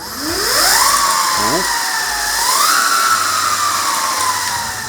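A Flipsky FT85GS electric bike motor whines up to a high pitch, dips, and revs up again, a loud steady whirring with a low thump beneath.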